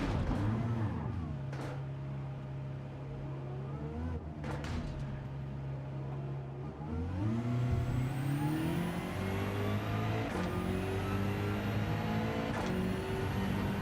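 A BMW Sprint race car in Gran Turismo 7 drones steadily, then drops in pitch before climbing through rising gear sweeps, with other engines whining nearby at moderate loudness.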